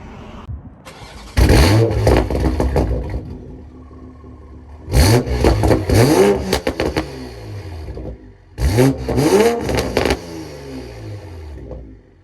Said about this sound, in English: we're gonna go for a POV drive and Supra that's full bolt-on and pretty much tuned